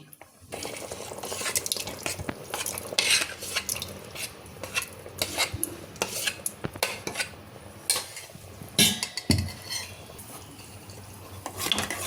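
Cooked dal being stirred into mutton curry for dalcha in a pot over high heat: irregular clattering and scraping of a spoon against the pot, close and busy, with no talking.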